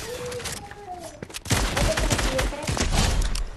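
Rapid bursts of gunfire crackle in the Fortnite video game, a dense fusillade of overlapping shots that erupts loudly and keeps going, with a brief tonal game sound just before it.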